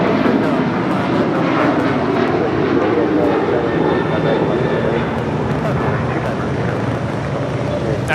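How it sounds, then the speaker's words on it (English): A United Boeing 737-900ER roars down the runway on takeoff from Los Angeles International Airport, a loud, sustained jet-engine rumble that stays strong and even across the whole stretch. "That was United 1621 departing to Orlando on the 737-900 ER."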